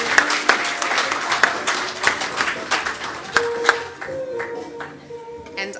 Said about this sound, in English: Let's give those nominees a great round of applause.